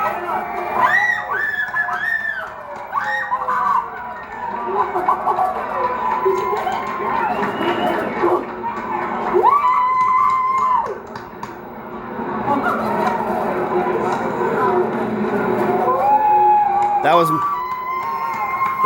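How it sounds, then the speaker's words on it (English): A husband and wife scream and cheer loudly and excitedly, with whoops and shrieks that rise and fall across the stretch amid crowd-like noise and a whistle near the end. "That was my wife and me screaming."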